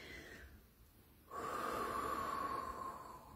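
Slow, calm breathing during a morning relaxation practice, a soft exhale followed by a longer, steady breath drawn in close and quiet.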